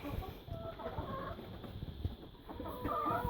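Chickens in a small barn cluck in soft, overlapping bursts at close range, a steady low murmur of poultry chatter with a few sharper calls near the end.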